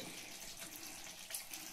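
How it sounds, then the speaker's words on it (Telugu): A little water pours into a simmering chicken curry, a soft continuous trickle and splash heard faintly at close range. "కొంచెం వాటర్ యాడ్ చేస్తాను"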